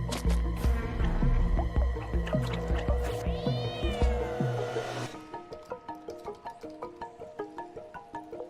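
The cat in the video game Stray meows repeatedly, several close, clear meows over game music and effects, followed by a rhythmic plucked melody.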